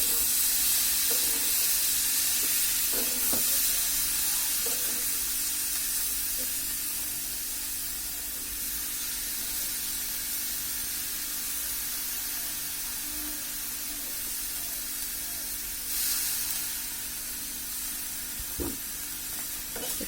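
Chopped tomatoes and potatoes sizzling in a hot pan for a dried-fish curry, a soft, steady hiss of frying close by with a few faint clinks and one sharp knock near the end, no voices.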